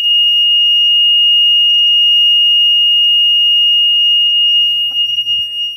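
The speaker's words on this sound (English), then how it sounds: "that's the high water alarm. It means that there is too much water in the sump" A sump pump's high water alarm sounds, signalling too much water in the sump: a loud, steady, unbroken electronic tone held for several seconds, with faint handling noise near the end.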